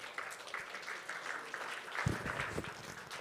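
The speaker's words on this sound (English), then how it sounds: "Another round of applause for Richard, everybody." Conference attendees at a Devcon SEA talk applaud the speaker, a faint, scattered patter of clapping from a room audience, swelling briefly near the end.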